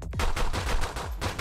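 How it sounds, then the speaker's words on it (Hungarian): Rapid bursts of gunfire from a video game firefight, loud and close, repeated shots in quick succession over a dense, busy background with no talk. "Aha, lövöldözik rám nagyon."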